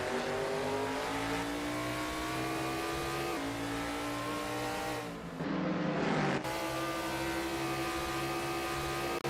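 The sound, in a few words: race cars racing in a sim racing game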